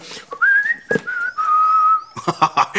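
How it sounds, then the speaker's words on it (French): A person whistles a cheerful, wavering tune alone, the clear pitched notes sliding and holding in short phrases broken by brief pauses, close and fairly loud. "Et moi, quand je suis content, je siffle."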